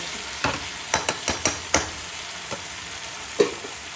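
A spoon stirs curry in a pan with raw oil, sizzling quietly underneath while about eight sharp scraping strokes land at irregular intervals, close and fairly soft.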